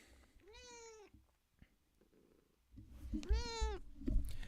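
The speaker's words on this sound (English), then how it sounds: "I hope all of you heard my cat" A cat meows twice nearby, each call a drawn-out rising-and-falling cry of about a second, separated by a quiet pause with faint rustling, the second meow louder over low rumbling noise.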